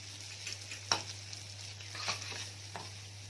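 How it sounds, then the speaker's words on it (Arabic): Rice, vermicelli and onion for Egyptian koshari sauté in a pot with a soft frying sizzle, punctuated by scraping stirs and light knocks of a utensil against the pan, fairly quiet over a low hum. "اهو انا بقلب في الرز اهو، كنت بشوحه مع الشعريه"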